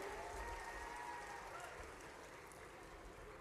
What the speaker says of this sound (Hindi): अभिनंदन करें गजेंद्र सिंह जी का जोरदार तालियां बजाकर के।